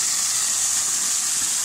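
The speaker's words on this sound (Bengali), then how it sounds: "কৃত্রিম ঝর্ণার পানির শব্দে" Water gushes steadily from an artificial fountain at a water park, a loud, constant broadband rush that fills the whole stretch without pause.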